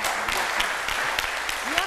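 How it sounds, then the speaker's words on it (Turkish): Studio audience applause on a Turkish word game show, a steady broadband clapping wash that runs through the whole short moment with a host's voice faintly mixed in. "Alkışı duyalım."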